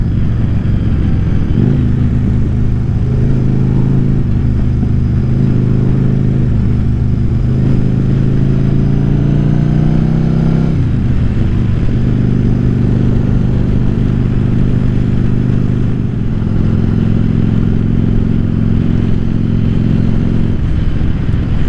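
Yamaha Virago XV750 Bobber motorcycle riding along a road, its mid-pitched engine droning steadily and loud throughout with rising and falling revs as it accelerates and shifts.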